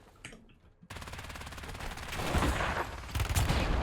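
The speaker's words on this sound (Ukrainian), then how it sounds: "ще їх стріляють, здаліка, здаліка стріляють" Rapid automatic gunfire in the Warzone video game, bursts of shots crackling continuously after a brief quiet start and growing louder toward the end, with no voices over it.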